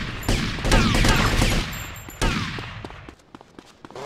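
Dense gunfire in a Grand Theft Auto: Vice City mall shootout, a loud sustained burst of rapid shots, then a heavy blast and scattered single shots trailing off.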